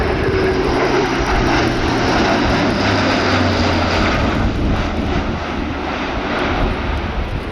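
Luftwaffe Airbus A400M military transport flying a steep banked turn at an airshow display, its turboprop engines a loud, sustained roar with a steady drone that shifts slightly in pitch, no voices.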